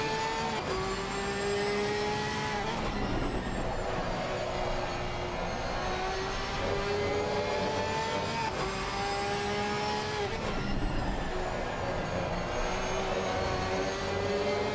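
A Porsche race car in a sim racing game, its engine howling steadily at high revs with sharp gear shifts every few seconds, loud and close with no talk over it.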